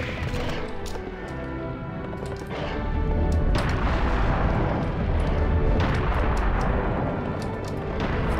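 A serious bomb detonates in Serious Sam: The Second Encounter at the Grand Cathedral, a loud rumbling explosion swelling midway and followed by sustained booming, crashing blasts like artillery.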